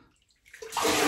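Water is tipped out of a basin during a head and face shave, a quick splashing pour that starts abruptly and rushes close and loud for the final half second.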